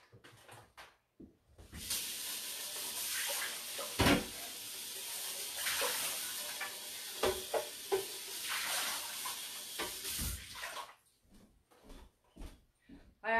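Tap water runs into a sink while a blender jar is rinsed out, a loud steady gush broken by clunks of the jar, stopping briefly and then ending, with scattered knocks and some talk nearby.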